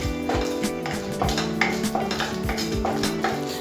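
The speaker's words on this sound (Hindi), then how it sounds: "इसमें भी थोड़ा तेल डाल देते हैं। और इसे भून लेते हैं।" Garam masala spices roasting in a little oil, stirred in a pan with a rhythmic series of metal scrapes and clinks over a soft sizzle, close and without talk.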